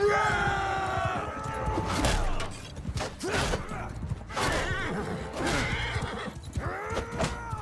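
Horses whinny and neigh repeatedly over scuffling and hoof clatter in a busy Mount & Blade II: Bannerlord battle soundscape. There is faint speech in the mix.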